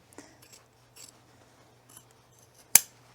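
Scissors trimming a fabric pocket flap on a sewing-pattern tool belt, a few soft snips and rustles, then one sharp, close, crisp cut near the end; otherwise quiet with no talking.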